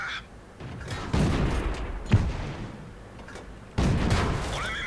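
Tank cannon fire sounds in the World of Tanks video game. Several heavy booming shots with rumbling tails follow one another over game background noise, without talk.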